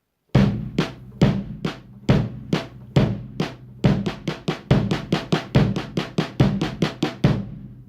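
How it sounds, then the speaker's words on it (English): Snare drum line rolling from eighth to sixteenth notes over a steady quarter-note bass drum, played alone as a warmup demonstration; sharp, loud, closely spaced hits that grow denser across the pattern. "we're going to play the bass drum on quarter notes while I play line 1"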